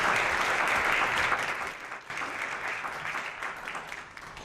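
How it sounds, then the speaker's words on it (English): A forum audience gives a steady round of applause at a candidates forum, dense clapping filling the room for several seconds and easing slightly toward the end. "could we please have a round of applause for Kathleen Walker"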